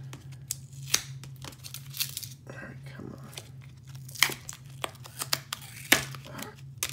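Packing tape is torn and peeled off a mailed package of sports cards, with intermittent ripping and crinkling bursts, close and fairly quiet, over a low steady hum.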